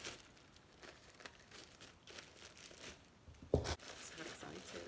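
A blade slicing into an iPhone XS delivery package: quiet crinkling and rustling of plastic packaging, then a sharp tearing rip near the end, with soft speech murmured around it.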